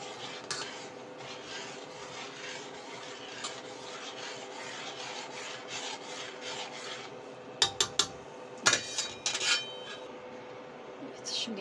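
A spoon stirs sugar and lemon salt into boiling water in a metal pot, giving a steady faint scraping and rubbing with a few sharp clinks against the rim.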